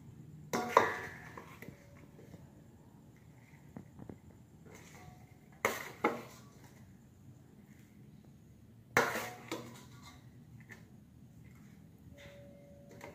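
A spoon scrapes spicy Thai pork sausage salad (larb moo yor) onto a plate, giving a few separate sharp clinks and scrapes spaced several seconds apart over a quiet background.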